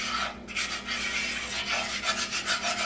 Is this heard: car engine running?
no